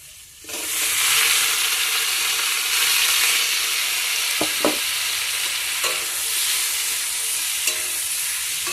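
Fried pointed gourd and potatoes being stirred and sautéed in a hot pan with spiced gravy for a Bengali fish curry: a loud, continuous sizzle with a few sharp scrapes and knocks of the spoon against the pan.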